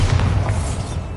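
Bombarda explosion spell in the video game Hogwarts Legacy: a deep, booming blast with a rolling low rumble that stays loud and fills the whole moment without fading much.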